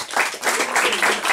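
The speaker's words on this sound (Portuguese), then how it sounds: "uma salva de palmas" A short burst of audience clapping mixed with cheering voices, loud and close, lasting just over a second.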